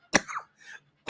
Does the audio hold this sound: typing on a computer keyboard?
no